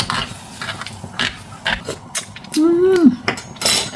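Spoon scraping and clinking in a bowl as chili paste is mixed, irregular close strokes, with a short hummed vocal sound near the end.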